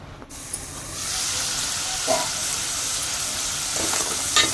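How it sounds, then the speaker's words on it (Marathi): Cleaned crab sautéing in masala in a pan, a continuous close sizzle with a few scraping stirs of a spoon, steady and fairly loud with no voices. "आपण चांगलं परतून घेऊया. आता जरा थोडं वापरून घ्यायचं मसाल्यामध्ये चांगलं."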